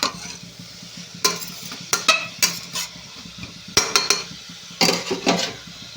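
Vegetables for upma frying in a pan, turned with a metal spoon in short bursts of scraping and clatter separated by pauses, over a low steady sizzle, heard up close without speech.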